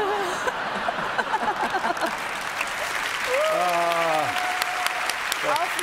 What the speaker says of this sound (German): ganz großer Applaus für unsere Schwestern